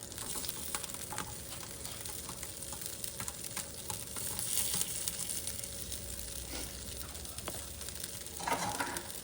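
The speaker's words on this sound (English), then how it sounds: "we're going to saute them until they are soft" Half a cup each of celery and diced onions sauté in a pan, giving a quiet, continuous sizzle with faint crackles and occasional soft clicks of stirring.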